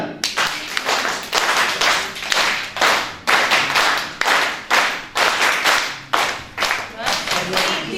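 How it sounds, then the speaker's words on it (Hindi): A group claps together in a panchtali five-beat pattern, about a dozen sharp, loud claps falling in evenly spaced clusters over a steady rhythm inside a classroom training session. "मैं निवेदन करूंगा कि हमारे साथियों का पंचताली का प्रदर्शन दिखाएं। पंचताली शुरू कर।"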